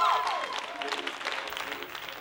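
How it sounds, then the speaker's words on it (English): A live audience at a comedy show claps together, a dense burst of applause that fades over two seconds, with voices mixed into the noise. "The claps are tallied and Nine and Numb are the victors"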